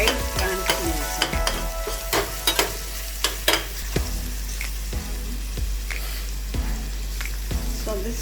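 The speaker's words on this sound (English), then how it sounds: "I'll put in the onion, and the onion has to be really fried translucent" Onion frying in a pan for Kumbakonam kadappa, with a constant close sizzle and a spoon repeatedly stirring and scraping the pan in a loose rhythm.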